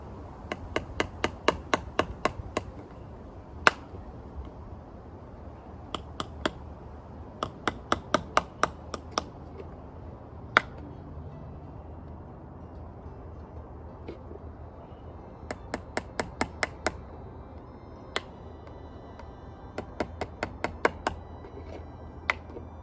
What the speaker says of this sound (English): a dainty hammer for a dainty job.